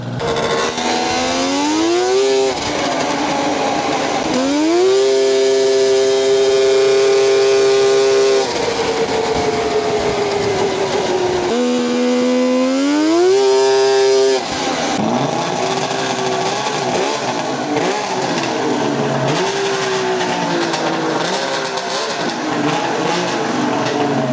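A worn-out big-block two-stroke racing lawn mower engine screams high-pitched as it revs up through repeated rising sweeps, dropping between runs, then buzzes unevenly as it slows near the end.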